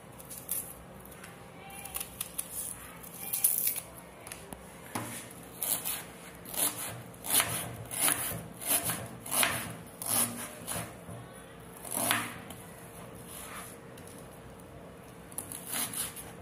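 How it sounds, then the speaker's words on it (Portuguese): Repeated crisp slicing strokes of a knife cutting through onion on a board, a steady run of short close chops with brief pauses between them. "agora vou cortar a cebola"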